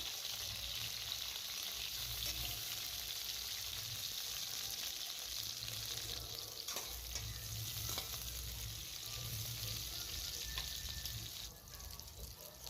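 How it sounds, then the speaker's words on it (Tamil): Green chillies frying in hot oil for a chilli pickle, giving a steady, loud sizzle and crackle that runs the whole time, with occasional stirring scrapes and no talk. "எண்ணெய் சூடாயிடுச்சு. பச்சை மிளகாய் எடுத்து கொட்டிடலாம். நல்லா வதங்கி வரட்டும்."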